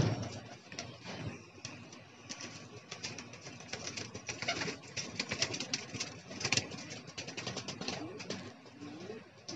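Racing pigeons, some still panting after flying in 40-degree heat, coo softly and repeatedly at a low level, with rustling, wing flutters and faint background voices.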